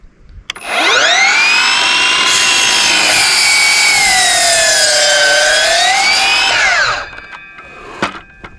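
A hand saw cuts a wooden board at an off-grid cabin, one long steady stroke of loud, rasping, sweeping pitch lasting about six seconds, ending abruptly with a few small knocks.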